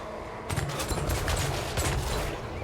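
Skaven Avalanche Mortar shots in Total War: Warhammer 3, several loud booming reports in quick succession over a steady background of battle noise.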